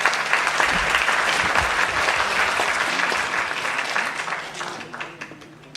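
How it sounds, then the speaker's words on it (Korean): Sustained applause from an audience welcoming a speaker at the launch of a Korean national coalition opposing same-sex marriage constitutional amendment, dense clapping throughout that gradually thins toward the end. "뜨거운 박수로 환영해 주십시오."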